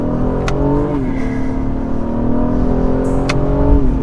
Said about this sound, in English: You hear that downshift? Woo! That's a nice sound.